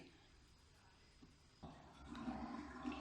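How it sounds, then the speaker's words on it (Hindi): Water pours steadily into a cooking pot, starting partway through and growing fuller and louder after a quiet, faint stretch. "दो कप पानी डालेंगे।"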